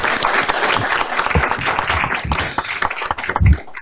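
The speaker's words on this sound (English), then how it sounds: "That's a round of applause." An audience at a school board meeting claps loudly and continuously, dense applause filling the room and fading slightly toward the end.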